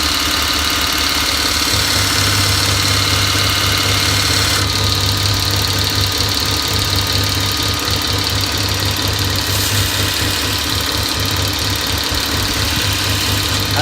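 A belt grinder fitted with a multitool attachment sharpens a hoof knife, giving a steady loud motor drone with a constant abrasive hiss throughout, the blade pressed only lightly against the belt and no voices present.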